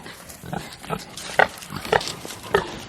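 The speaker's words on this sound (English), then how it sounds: "this new pig is a Berkshire" A Berkshire pig on a farm gives short grunts, about five or six close, snuffling bursts spaced roughly half a second apart, with faint background noise and no talking.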